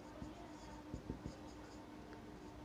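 Chalk or marker strokes on a classroom board during a physics lesson on dimensions, a few short scratchy taps in a quiet room.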